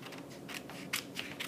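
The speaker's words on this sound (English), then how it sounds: "So with the scissors, I'm going to cut a diagonal line" Scissors cut a diagonal line through paper while trimming the corner of a craft letter, a few quick quiet snips and rustles up close.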